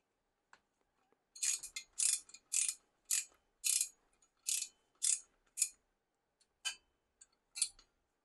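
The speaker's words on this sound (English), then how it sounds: "Of course, I could also just turn this into like a ratcheting screwdriver like this and do the same thing." A ratcheting screwdriver tightens a bolt in a quiet room, giving about a dozen crisp bursts of ratchet clicks in a steady back-and-forth rhythm, close and clear, with no talking.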